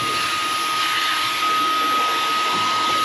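A cordless Dyson vacuum cleaner runs steadily with a high whine and airy roar, close and constant for a few seconds before switching off.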